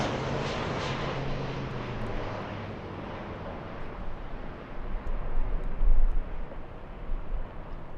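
Large aircraft at San Bernardino airport, a broad roaring jet or engine wash with a low whine that slowly falls in pitch, steady and fairly loud, swelling again with deeper rumble toward the end.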